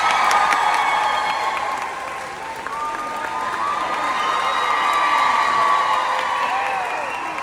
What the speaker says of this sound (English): please give a very warm applause for the incredible Michelle Pajnyiag